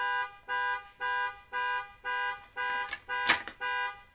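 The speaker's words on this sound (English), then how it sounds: "somebody left their alarm on in their car" A car alarm blares in regular repeating pulses, about seven evenly spaced tones, fairly loud and steady, with a brief sharp clatter near the end.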